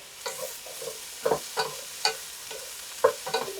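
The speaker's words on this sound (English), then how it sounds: "I'm stir frying to make sure it cooks out, but also I don't want it to burn." Tofu stir-fried in a hot pan, a spatula scraping and tapping at irregular intervals over a steady sizzle.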